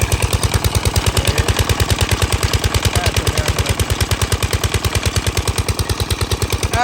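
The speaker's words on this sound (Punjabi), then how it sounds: "ਇਹ ਪੀਟਰ ਇੰਜਨ ਹੈ।" A Peter diesel engine runs in a village with a loud, close, rapid, steady thumping beat, each rhythmic chug sharp and evenly spaced like gunfire, with no talk over it.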